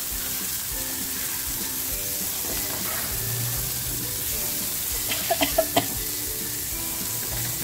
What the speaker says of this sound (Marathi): बघा आता आपण याला छान अशी पलटी करून घेऊया.